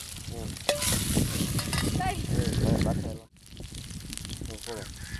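Onions and coconut fry and get stirred in a pan in a village kitchen, with a loud steady sizzle, scraping stirs and a brief pause partway. People talk throughout.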